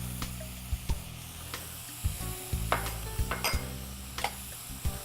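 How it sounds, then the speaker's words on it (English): Sliced button and portobello mushrooms sear in a hot pan, giving a steady sizzle broken by repeated clinks and scrapes of a utensil stirring against the pan. "I'm going to add my button mushrooms, and I'm also going to add some portobellos"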